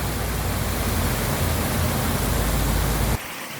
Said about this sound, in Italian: e proprio davanti a questa piccola cascata